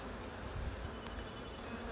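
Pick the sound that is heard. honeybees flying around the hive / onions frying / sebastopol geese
honeybees flying around the hive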